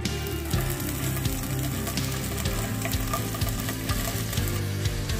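Paneer fries in sunflower oil in a pan with a steady, close crackling sizzle that continues without pause, along with faint scraping and stirring underneath and no talk.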